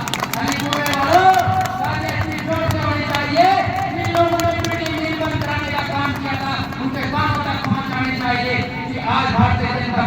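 Clapping from a political rally crowd during a Bharatiya Janata Party program, steady hand claps mixed with the murmur of the gathering, under a loud amplified voice speaking throughout.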